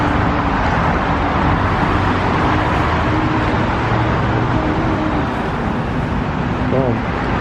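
A Dodge Durango cruises on the highway, giving a loud, steady roar of road and engine noise with no break.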